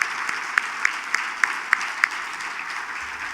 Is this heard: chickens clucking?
no